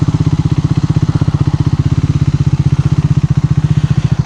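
Motorcycle engine idling steadily near a house by a rubber estate on the way to a waterfall in Kanyakumari, a loud, close, even low putter running throughout with no talk.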